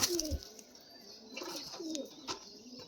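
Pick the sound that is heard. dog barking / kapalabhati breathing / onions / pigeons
pigeons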